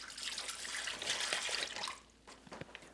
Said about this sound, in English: I'm going to take all of our marinade and just pour it over top.